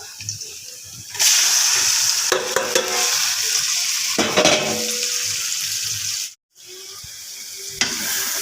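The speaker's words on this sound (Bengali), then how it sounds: "পেঁয়াজ কাঁচামরিচটা ভাজা হলে আমি উচ্ছেটা ঢেলে দেব এখানে" Steady loud sizzling of bitter gourd frying in a pan with onion and green chilies, with occasional stirring scrapes and a brief drop to near silence partway through.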